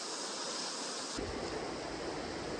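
A stream tumbles down a cascading waterfall in a wilderness gorge, a loud, dense rushing roar of water that swells even fuller after the first second, close by with no talk.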